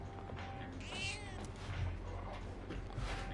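A cat meows in Persona 3 Reload, a few clear, close mews with wavering pitch over a low, steady background hum.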